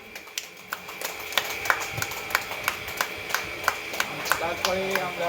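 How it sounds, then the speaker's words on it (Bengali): A small audience claps at a yoga competition prize-giving while a participation award is handed out. The claps are sparse, sharp and fairly regular, and voices talk underneath them throughout. "একটু জোরে হাততালি হোক।"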